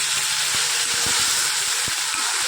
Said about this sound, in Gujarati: ખાંડનું પાણી નાખી દઈએ.